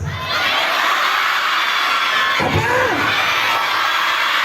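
A large crowd of schoolchildren shouts together loudly and continuously at a junior high school Ramadan celebration, a sustained roar lasting several seconds after a brief pause at the start.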